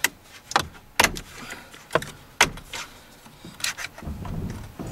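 Plastic trim clips snapping loose from a Honda Odyssey power sliding door panel, several sharp pops spaced about a second apart with rubbing and scraping of the panel between them, close up with no talking.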